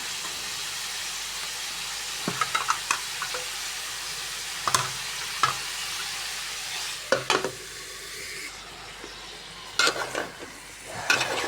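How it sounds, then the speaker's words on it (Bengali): Cauliflower florets with fish curry being stirred and fried in a pan: a steady sizzle with scattered clinks and scrapes of the spoon against the pot, close and moderately loud, no talking. "তো ফুলকপিগুলো আমি দিয়ে দিলাম, দিয়ে ভালো করে নেড়ে চেড়ে দেবো"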